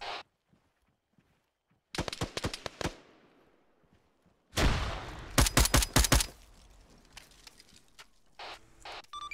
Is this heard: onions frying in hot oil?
no